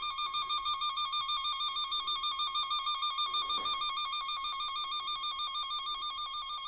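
A V200 Pro circuit probe traces a wire's signal with a continuous, steady electronic tone pulsing in rapid even beats, loud and close, with a brief scratchy rustle midway and no talking.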